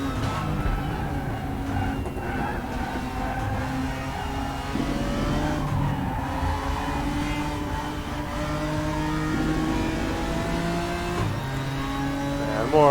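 Race car driving on an oval in the RaceRoom racing video game, engine droning steadily with rising and falling revs through gear changes, loud and continuous, with a voice talking over it at times.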